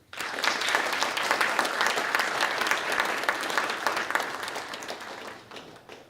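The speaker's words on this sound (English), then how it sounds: "please join me in giving a round of applause to those who have supported you" Audience at an English and Philosophy department graduation awards ceremony clapping for the graduates' supporters, a full steady round of applause from a large crowd that swells quickly and tapers off near the end.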